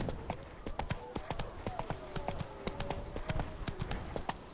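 Hooves clip-clop in a steady trotting rhythm as a horse moves along in The Witcher 3, crisp repeated strikes at close range over a soft ambient bed.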